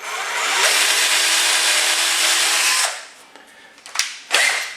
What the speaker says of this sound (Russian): Сверлом на 5 прохожу под мини-фикс.